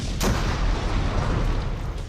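A heavy explosion booms with a sharp crack, followed by a dense, roaring rumble that lingers without fading.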